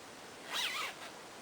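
Zipper on a handmade cloth shopping bag drawn once, a short close rasp lasting about half a second in otherwise quiet surroundings.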